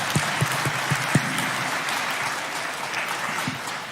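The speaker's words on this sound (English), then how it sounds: "I want to hear a round of applause for the President" Steady applause from a large audience at a national commemoration ceremony, a dense continuous wash of clapping with a few sharper nearby claps early on, holding level for the whole stretch.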